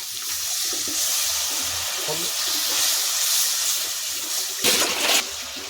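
Water is poured into a pan of fish curry with potato and tomato, a soft steady splash and hiss over a low background, ending in a brief louder gush near the end.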